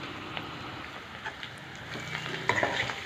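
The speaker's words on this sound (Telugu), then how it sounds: "చక్కగా ఈ కొబ్బరి అంతా పచ్చి వాసన పోయే వరకు వేయించుకోండి" Steady frying sizzle of grated coconut roasting in a pan with scraping stir sounds and a few clinks of a spatula, no voices.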